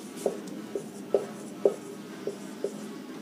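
Chalk or marker strikes a board in six distinct taps and short strokes, spaced about half a second apart, close and clear in a quiet room.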